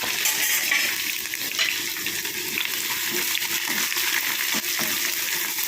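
Sliced onions with curry leaves sauté in a pan for a beef fry, producing a constant, moderately loud sizzle with faint stirring and no talk.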